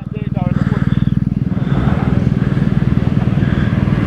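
Motorcycle engines thrum loudly and steadily nearby with a pulsing, rhythmic beat as bikes ride along a road in the south of France, while a person talks over them.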